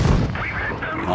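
A tank cannon fires in the video game World of Tanks Blitz, one short booming blast up close that fades quickly, followed by a faint tail.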